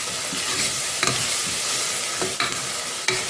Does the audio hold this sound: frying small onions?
yes